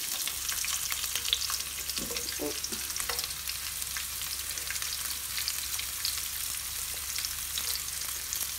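Onion frying in a pan with half a tablespoon of vegetable oil for a chicken and cashew stir fry, a close, even crackling sizzle with a few stirring knocks early on and no talking.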